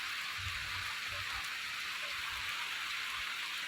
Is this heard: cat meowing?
no